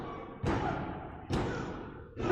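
A wrestler is driven down onto the ring mat with a Michinoku bomb at a pro wrestling match, a heavy thud landing amid loud crowd noise, with further booming impacts following in quick succession.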